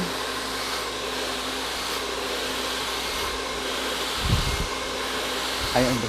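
A hair dryer blow-drying curly hair, fitted with a nozzle, runs as a loud continuous airy whir throughout, with a couple of brief bumps of handling noise near the end.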